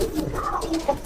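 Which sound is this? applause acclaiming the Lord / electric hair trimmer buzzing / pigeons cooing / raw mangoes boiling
pigeons cooing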